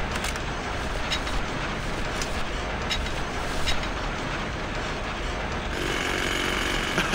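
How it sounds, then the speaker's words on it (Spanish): A drill in the video game Grim Fandango, a harsh, continuous rattling grind that holds steady at moderate loudness with a slight change in texture near the end. "¿Y se puede usar el taladro acá?"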